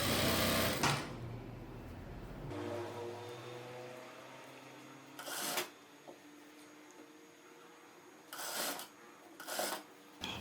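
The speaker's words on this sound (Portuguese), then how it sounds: "passa essa costurinha de segurança aqui, segurando o babado aqui para depois colocar a outra parte" A sewing machine runs steadily, stitching a ruffle onto a cut-out pantacourt jumpsuit, a close mechanical whir with short louder bursts and pauses as fabric is handled, no voices.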